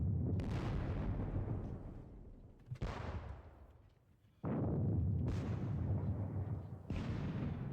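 Repeated booming indirect artillery fire in a Napoleonic-era wargame, four heavy blasts each followed by a rumbling decay, loud and isolated without talk.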